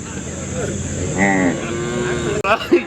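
A Kangeyam bull at a native cattle market lets out a drawn-out, throaty moo close by, amid a steady hum of market noise, followed by brief bumps and shuffling.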